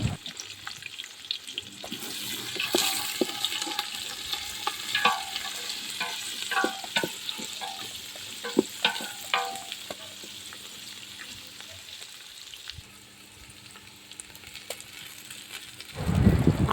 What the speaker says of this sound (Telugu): హోల్ గరం మసాలా అన్నీ వేసి బాగా కలపాలి.